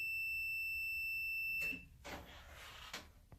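A multimeter gives a continuity-test beep while checking a dryer's thermal fuse, a thin steady high tone held for about a second and a half and then cut off, followed by soft handling clicks.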